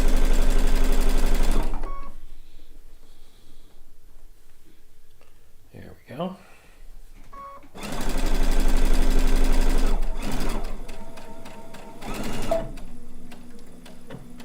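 A sewing machine pieces the final row onto a blue-and-white quilt top, running in two steady, loud bursts of stitching separated by a quieter stretch where a person talks.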